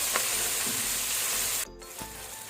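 Ginger garlic paste frying in hot oil over a medium flame, a loud continuous sizzle that drops abruptly partway through and then continues more softly, with a faint stir or clink.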